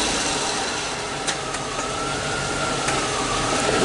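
A vehicle with a 4L60E automatic transmission and a torque converter clutch fault runs steadily with a broad engine drone and a few faint clicks, and no talk over it.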